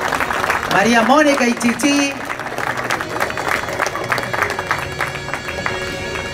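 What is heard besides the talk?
applause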